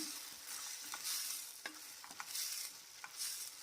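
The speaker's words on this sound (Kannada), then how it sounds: "ಟೊಮೊಟೊ ಸ್ವಲ್ಪ ಫ್ರೈ ಆಗಲಿ" Tomatoes fry in a pan for tomato-mint chutney, giving a steady soft sizzle broken by a few brief spatula scrapes and taps, close and fairly quiet, with no talking.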